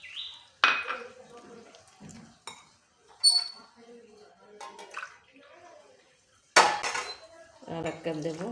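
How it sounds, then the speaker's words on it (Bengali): Water pours into a bowl of salted rice-flour batter for chitol pitha and is stirred in, with two sharp splashy bursts, soft clinks of a utensil against the bowl and quieter swishing in between. "এবার প্রথমে আমি 1 কাপ জল দেব, দিয়ে এটা গুলতে থাকবো।"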